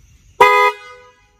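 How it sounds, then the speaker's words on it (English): A 2019 Honda Gold Wing Tour DCT's dual car-like horn gives one short, loud honk up close, then tails off quickly. "This horn sounds like a car. It's a dual type of horn."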